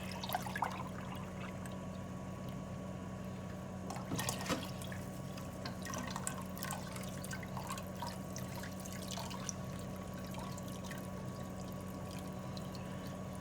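Liquid for cream of mushroom soup being strained, a faint, steady pouring trickle with light drips running throughout, no talking.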